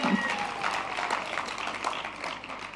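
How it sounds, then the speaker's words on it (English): Conference audience applauding steadily throughout, a dense wash of many hands clapping at moderate distance, filling the room without a break, with faint voices mixed in beneath the clapping. "I want you to give yourself a round of applause."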